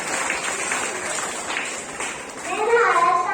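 Applause rises from an audience of children at an Independence Day event, welcoming a girl dressed as Bharat Mata. A loud rush of clapping runs under children's chatter, and a voice comes in near the end.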